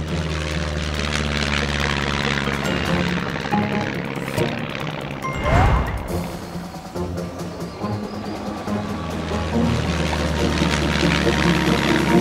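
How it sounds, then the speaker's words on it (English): A cartoon airplane takes off in a children's Mega Bloks show, with a sustained engine drone rising to a loud swoosh midway, then settling back into a steady hum under faint background voices. "Captain Chicken, we are clear for takeoff."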